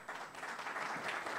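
Brief burst of steady crowd clapping from a conference audience welcoming a speaker to the stage, dense and even throughout.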